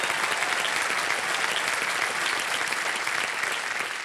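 A big studio audience on the KBC quiz show claps hard and continuously, a thick, even wash of applause that holds steady for the whole stretch.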